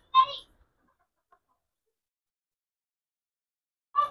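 A rooster, red with white and black spots, kept with hens on a breeder farm gives two short, nasal clucks, one at the start and one at the end, separated by near silence.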